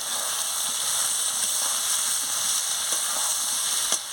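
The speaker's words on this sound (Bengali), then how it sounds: "এবার আলু সোয়াবিন দিয়ে এদিকে আনাজটাকে এগুলোকে ভালো করে কষে নিই" Potatoes and soybean chunks with spices sauté in hot oil, giving a steady, loud sizzling hiss throughout with a faint scrape of stirring near the end.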